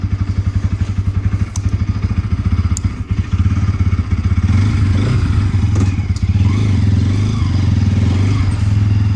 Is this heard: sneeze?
no